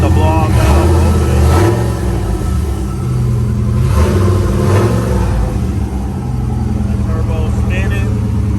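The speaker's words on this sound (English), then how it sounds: "Turbo spinning." A single turbo on a 2005 GMC engine spins up with the blow-off valve open, a loud, steady rumbling engine drone that swells and eases, while someone talks over it.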